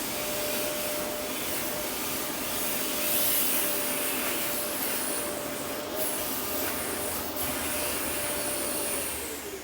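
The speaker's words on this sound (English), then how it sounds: "then you can drive your dust extractor from here" A Festool dust extractor runs steadily, driven by remote control, producing a constant airy whir at an even level throughout, with no talking.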